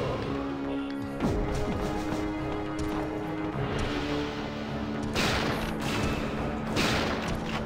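Gunfire and crashing impacts in the video game Resident Evil 3: Nemesis, with several loud blasts and clattering hits over a steady game soundscape, no talking.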